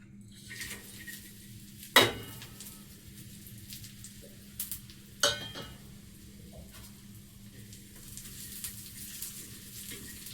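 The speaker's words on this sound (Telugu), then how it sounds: "ఆయిల్ కూడా హీట్ ఎక్కేసింది. వీటిని కొంచెం దూరగా వేయించుకుందాం." Something frying in hot oil in a pan for a Maharashtra-style curry gives a faint, steady sizzle, broken by a couple of sharp metal utensil clinks against the pan.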